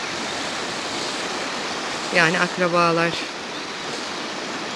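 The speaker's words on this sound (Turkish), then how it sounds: "Burada da tabii dere sesi şırıl şırıl." Village stream babbling steadily as broadband rushing water throughout, with a voice speaking briefly over it near the middle.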